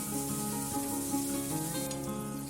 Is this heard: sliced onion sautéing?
yes